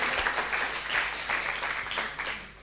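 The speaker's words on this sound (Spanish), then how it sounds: "Dele un fuerte aplauso al Señor" A church congregation applauds in a strong, sustained round of clapping that swells and eases slightly over nearly three seconds, with a faint voice underneath.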